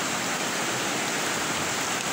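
The Pemali River, slowly rising after upstream rain, rushes past as a steady, broadband roar of flowing water, loud and continuous with no voices.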